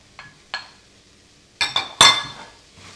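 Cooked quinoa goes into a pot of lentils with a few sharp metallic clinks and taps of a utensil against the pot, spaced out and close, in otherwise quiet surroundings.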